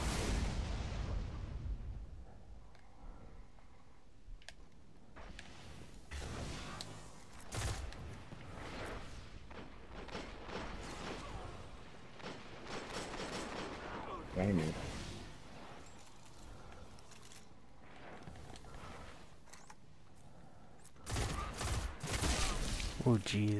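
Sniper rifle fire in a Destiny multiplayer match, heavy booming shots and blasts going off repeatedly, some close and loud, others further off, mixed with other gunfire and explosions while players talk over the action.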